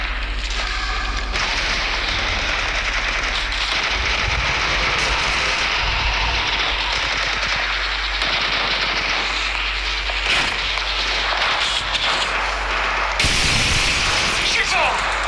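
Rapid bursts of gunfire in the mobile battle royale game Apex Legends Mobile, loud and dense throughout, with booming impacts and engine-like rumble mixed in and a voice talking over the action.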